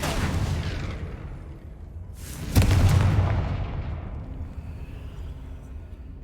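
A Confringo fire spell from Hogwarts Legacy detonates in one loud, booming explosion with a sharp crack, then a long rumbling decay that fades slowly, heard alone without talk.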